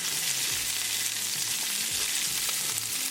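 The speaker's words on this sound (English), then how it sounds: "cook onion for half a minute" Onion sizzling in a pan with ginger and garlic, a loud, steady close-up frying hiss with occasional stirring scrapes.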